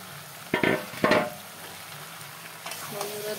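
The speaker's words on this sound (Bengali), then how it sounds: "দেখো আমার আলুটা একটু ভাজা হয়ে গেছে, এখন মাংসটা ঢেলে দেব।" Meat poured into a pan of fried potatoes, giving two sharp, loud bursts of sizzling close by, then settling into a quieter, steady frying hiss.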